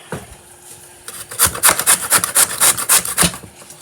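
Carrots are grated by hand on a kitchen grater, with a quick run of rhythmic rasping strokes, about a dozen in a row, loud and close after a quieter start.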